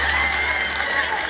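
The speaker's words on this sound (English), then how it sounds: "Now, a lot of you are clapping" An audience claps and cheers in a steady, dense wash of applause that stays close and loud for the whole brief moment, with a sustained whistle-like tone running through it.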